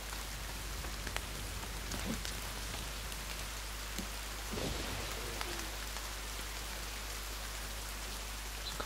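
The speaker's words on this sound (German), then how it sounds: "Es regnet." Steady rain patters on a surface, a constant soft hiss with scattered louder drops throughout.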